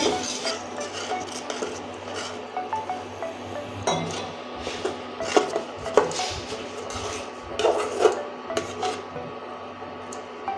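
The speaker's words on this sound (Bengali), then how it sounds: "এই দুধটা এখন দিয়ে দিচ্ছি আর নাড়তে থাকবো" Roasted wheat flour is stirred with warm milk in a pan while making gulab jamun dough. A spoon scrapes and clinks against the pan in close, continuous, uneven strokes.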